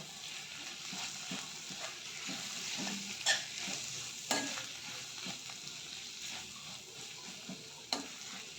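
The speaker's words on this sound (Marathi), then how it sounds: "हे छान तेलामध्ये मिक्स करून घ्यायचं" Coriander powder, turmeric and other spices are stirred into hot oil for baingan bharta, giving a steady close sizzle with scraping spoon strokes and a few sharper clinks against the pan.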